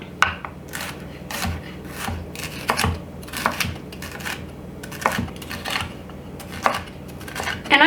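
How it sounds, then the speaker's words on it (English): A knife chops red and green peppers on a cutting board, giving a run of irregular sharp taps and scraping strokes, close and fairly loud with no talking. "I'm going to cut these up in about the same size as the onions"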